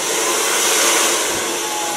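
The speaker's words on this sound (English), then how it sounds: "Take a blow dryer" Blow dryer drying ultra-short silver-toned hair, a steady loud whooshing airflow with a faint whine, running continuously up close with no talking.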